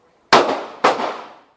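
Two pistol gunshots at an indoor shooting range, sharp loud cracks about half a second apart, each with a decaying echoing tail.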